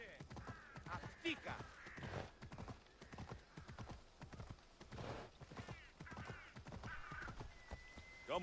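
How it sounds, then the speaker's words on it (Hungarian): Horse hooves trot at a steady, even clip-clop in the video game Assassin's Creed Odyssey on PS4. The hoofbeats are close and rhythmic throughout, with occasional tonal cries and game sounds layered over them. "Milyen szép egyenletesen megy a ló."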